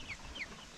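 Chickens on an African chicken farm with younger chicks, a few faint brief clucks and squawks over quiet background noise, no talking.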